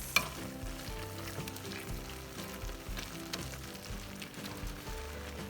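Homemade hamburger helper beef pasta sizzles softly and steadily in a hot pan, a faint even crackle with occasional light clicks of stirring.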